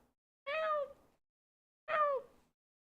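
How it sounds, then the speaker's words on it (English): A house cat meows twice, close and clear, each call rising then falling, with a pause of about a second between them in an otherwise quiet room. "She's meowing at me now. Can you guys hear?"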